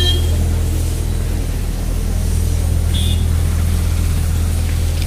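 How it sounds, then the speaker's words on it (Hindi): A long queue of vehicles near the Abdul Bari bridge over the Ganges at Koilwar, near Arrah in Bihar, heard as a loud, constant engine drone and traffic hum with a faint short beep midway and no talk. "लंबी कतार लगी हुई है गाड़ियों की।"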